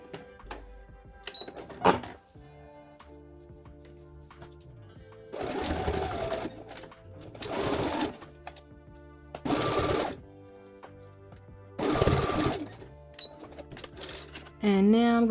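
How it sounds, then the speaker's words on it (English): A sewing machine runs in several short bursts as it sews a basting stitch on a skirt, with quiet pauses between runs and a faint voice at the end. "So I'm going to do my basting stitch first."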